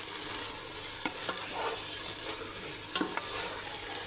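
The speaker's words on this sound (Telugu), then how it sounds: "హాఫ్ కప్ పెరుగు వేసుకొని కలుపుకుందాం." Yogurt being stirred into mutton biryani in a pot over heat, a steady sizzling and frying hiss with a few soft scraping strokes of the spoon, close and moderately loud, no talking.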